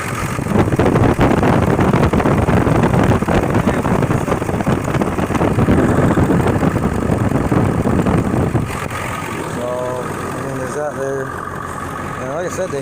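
A Ford 7.3 diesel engine idles steadily with the hood open, a loud continuous rumble that drops somewhat in level near the end, where a person begins talking over it.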